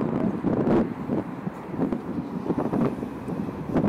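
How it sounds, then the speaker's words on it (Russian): Gusty, dusty wind buffets the microphone in Gorky Park, Minsk, in a steady low rumble with uneven surges, loud and close, with no voices. "Но ветер там хороший."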